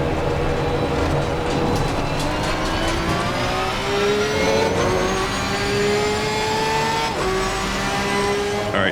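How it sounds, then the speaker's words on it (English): A Porsche race car engine in the video game Assetto Corsa Competizione screams continuously, its pitch climbing steadily through gears with brief drops at shifts, loud and close throughout. "So cool to have a new Porsche engine note here in ACC."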